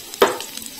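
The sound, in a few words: chopped garlic frying in oil in a wok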